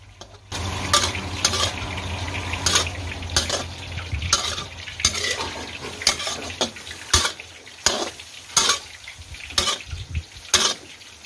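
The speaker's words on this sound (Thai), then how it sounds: "พอเนื้อหมูโดน โดนกระทะนะ มันก็จะสะดุ้งแบบแบบนี้" Wild boar pork stir-fried for a dry red curry in a hot wok, with chilli paste and oil added: continuous loud sizzling with repeated sharp scraping strokes of a spatula against the pan, steady and close, no talking.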